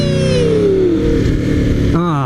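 Aprilia RSV4R motorcycle fitted with a GPR Thunder Slash exhaust revs close by, its pitch dropping then snapping back up in a sharp blip, a loud, raspy engine note throughout.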